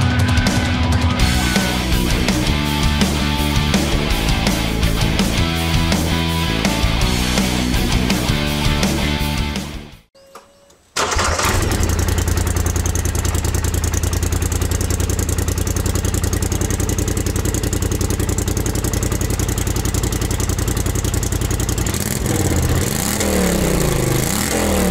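A 2017 Polaris Sportsman 1000 XP ATV engine running on its original exhaust. A tonal, rhythmic passage comes first, then after a short gap a loud, steady engine drone that rises in a few rev sweeps toward the end.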